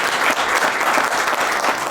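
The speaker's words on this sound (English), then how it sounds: "I'd like you, if you could give a little applause to the panel for their activity" An audience applauds a panel, loud, dense clapping filling the short stretch evenly from start to finish with no talking.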